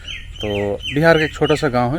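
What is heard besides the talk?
birds chirping in village morning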